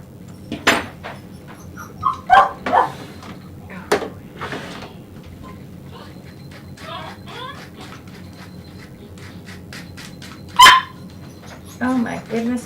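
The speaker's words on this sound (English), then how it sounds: "Oh my goodness, puppies, so loud." Puppies bark loudly in short, scattered yaps at a grooming session, with a sharp close bark near the end and some door-like knocks in between.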